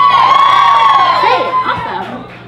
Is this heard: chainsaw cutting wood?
no